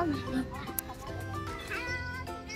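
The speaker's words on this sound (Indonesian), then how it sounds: "Oh, ini kucing nah tuh." A cat meows a few times close by while a person talks over it.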